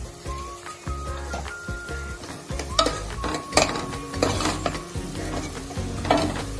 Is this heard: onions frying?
yes